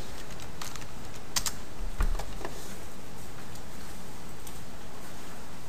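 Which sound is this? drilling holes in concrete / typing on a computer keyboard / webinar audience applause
typing on a computer keyboard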